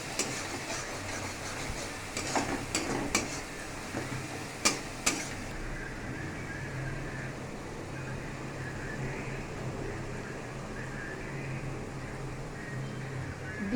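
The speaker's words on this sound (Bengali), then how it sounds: "এবার এই মশলাটা ভালো করে কষানো চলছে।" Masala for chilli chicken stir-fried in a pan: a sizzle close by with a few sharp clinks and scrapes from the spatula early on, then a steady low frying hiss.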